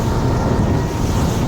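A Lomac Adrenalina 7 boat's engine roars at full throttle, a dense, loud rush of motor and wind noise with no voices.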